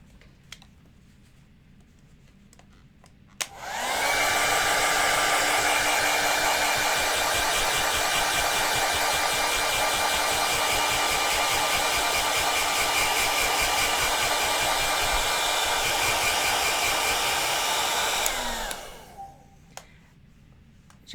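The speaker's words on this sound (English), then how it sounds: "Actually, I'm going to take the hairdryer to this." Hair dryer blowing on wet acrylic paint on a canvas, starting abruptly and roaring steadily and loudly up close for about fifteen seconds before cutting off.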